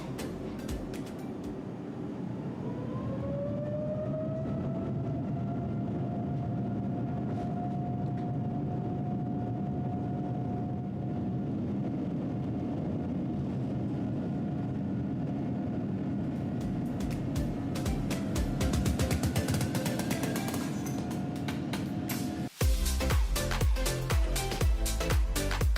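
United Boeing 787-10 taking off from Newark runway 22 right, heard from inside the cabin: a loud steady engine roar builds with a rising whine, rumbling rollout giving way to smoother thrust, then a sudden thump near the end.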